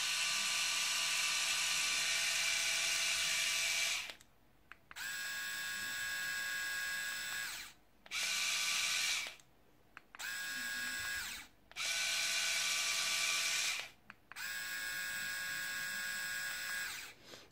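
Philips and Xiaomi Mijia electric shavers, the Philips with a single speed, running in turn as a loud, steady high motor buzz that starts and stops in several bursts separated by brief silences.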